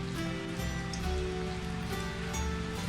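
Rain falling steadily outdoors, a dense continuous patter and hiss of drops on surfaces, evenly loud with no voices.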